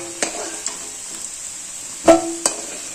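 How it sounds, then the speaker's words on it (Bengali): Potatoes frying in oil in a pan give a soft, steady sizzle, broken by a few sharp scrapes and taps of a stirring utensil, with one louder clatter near the end. No one speaks. "2-3 মিনিট মতো আলুগুলো একটু তেলে ভেজে নিয়েছি।"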